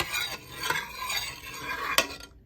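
Black kavuni rice porridge stirred in a pot with a utensil, giving a few scraping, knocking strokes against the pot's sides and bottom, with one sharper knock near the end and a faint sizzle underneath.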